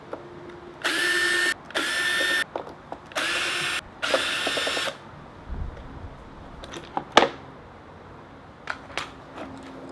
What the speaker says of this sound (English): then you're going to remove these two screws, or in my case I got to remove my flight fenders